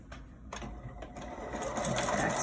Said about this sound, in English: I am going to be sewing right along the bottom of this edge here that's folded down